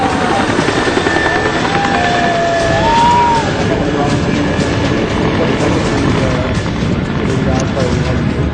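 Loud, steady roar of a rescue helicopter hovering over a burning 22-storey commercial building in Mumbai fills the whole stretch, with rushing wind noise and faint voices mixed underneath.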